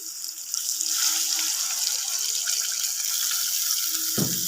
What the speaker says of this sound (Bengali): এবার আমি একটু পরিমাণ মতো জল দিয়ে দেবো যাতে পটলটা একটু সিদ্ধ হয়ে যায়